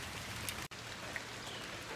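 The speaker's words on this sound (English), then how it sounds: "Just raining its fucking ass off." Heavy rain pours down on a fall day, a steady dense hiss of drops striking surfaces, unbroken apart from a brief cut.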